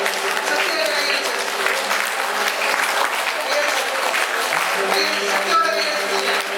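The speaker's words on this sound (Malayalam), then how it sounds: "ശക്തിയോടെ കൈയടിച്ച്, ശക്തിയോടെ കൈയടിച്ച്" A congregation at a Sacred Heart night vigil claps hands vigorously together, a dense, continuous roar of applause filling the hall, with a preacher's voice speaking loudly over it.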